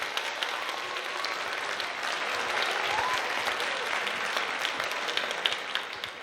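An audience claps steadily to welcome a presenter at a professional event, a dense, even wash of applause from a sizable crowd that holds at a constant level throughout.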